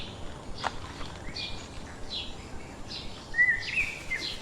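Several wild birds sing and call in a rural province in the Philippines, with scattered chirps and short trills, one louder nearby call standing out, over steady faint background noise.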